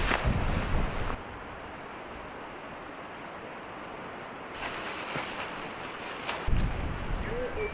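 Gusty wind in the New Zealand mountains during a winter camp in snow and rain, roaring loudly in bursts at the start and end with a quieter lull between.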